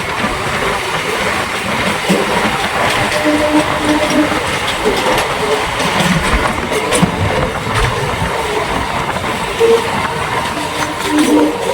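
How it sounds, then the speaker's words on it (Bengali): A local train on the Howrah–Tarakeswar line pulls out of Nalikul station, heard from on board as a steady rumble and rattle of carriages with rhythmic clatter over rail joints, continuous throughout with no speech. "নালিকুল থেকে ট্রেনটা ছেড়ে দিচ্ছে, এবার যাবে মালিয়া।"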